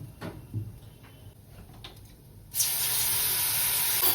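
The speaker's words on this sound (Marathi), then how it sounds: "आता ह्याच्यात मी पाणी टाकते." Water poured into a pan of spiced drumstick curry filling, a sudden loud, steady hissing rush that starts midway and continues to the end, after faint kitchen handling sounds.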